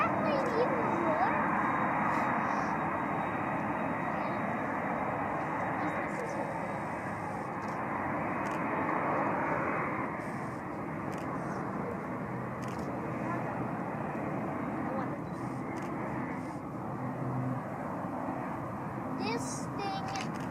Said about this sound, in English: Does that plane even roar?